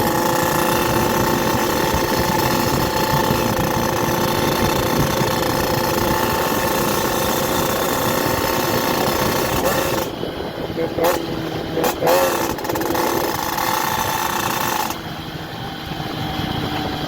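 A moped engine fitted with a new headlight idles with a steady, rattly drone, close and loud throughout, its tone shifting and briefly dropping out near the end.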